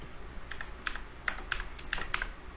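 Computer keyboard typing in a few quick bursts of clicks, close and fairly quiet, with no talk.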